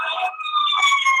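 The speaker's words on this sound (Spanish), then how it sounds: "Hay una ambulancia." An ambulance siren passing outside, a brief, fairly loud wailing tone with a steady pitch.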